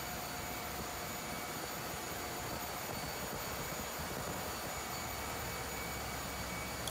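Marine diesel engines in a RO-RO ship's engine room run at a constant 900 RPM, producing a loud, unbroken roar with a steady low rumble and hissing turbocharger whine, no voices.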